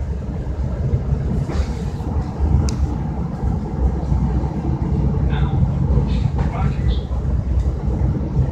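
A Chicago Metra commuter train ride heard from on board, with a steady low rumble of the railcar running throughout and a few faint higher clanks and squeals, while a person talks over it.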